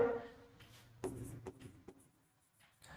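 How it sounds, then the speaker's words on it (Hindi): Pen scratching over paper as a maths solution is written out by hand, with short soft strokes in quiet, close-up bursts and pauses between them. "चलिए यहां से हम लोग लिखते हैं"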